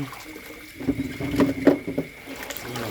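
Bamboo shoots are rinsed under running water, with a tap stream and uneven bursts of splashing and sloshing that rise and fall close by, and no voices.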